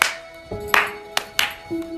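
A single hand clap, a sharp isolated transient standing out over a quiet room with faint background tones, with no talking.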